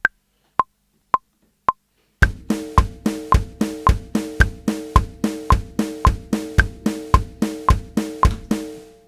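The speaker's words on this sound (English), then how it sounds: "Now we're going to use this beat that we will call a double time country beat." A one-bar double-time country drum beat, programmed in a sequencer for a blues arrangement, opens with four sparse, evenly spaced clicks, then settles into a fast, steady loop of kick, snare and hi-hat hits that keeps repeating at an even tempo.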